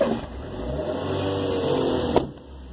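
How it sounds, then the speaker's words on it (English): A biogas-powered car's engine runs at a steady, moderate idle hum close by, with a brief sharp click near the end as the sound settles. "And he's going to turn on the engine."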